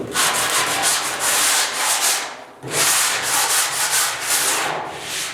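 Loud, close sanding on the repaired bed of a 1972 Ford 4X4 short box truck: rhythmic scratchy strokes that break off briefly midway, then resume.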